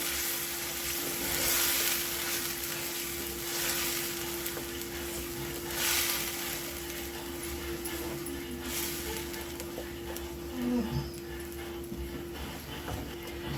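Vegetable puree for methi matar malai goes into a pan of hot oil and is stirred, giving a steady sizzle and frying hiss with occasional scraping and a few soft clinks.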